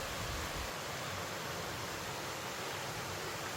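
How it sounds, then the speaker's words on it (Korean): Mountain stream and waterfall beside the trail on Seonjaryeong, a dense, continuous rushing roar of water, loud and steady without breaks. "산자령에도 저렇게 큰 계곡이 있습니다."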